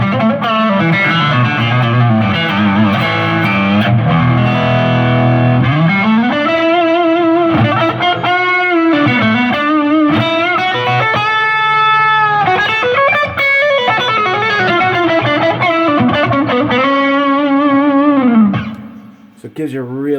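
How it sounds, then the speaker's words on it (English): Electric guitar played through a drive pedal into a Fender Champion 100 amp rings out with a thick, gritty overdriven tone and sustained bending notes, loud and close, over a steady phrase lasting about twenty seconds. "now I'm using a drive pedal, right? So I've got the tone and the drive, the amount of gain really"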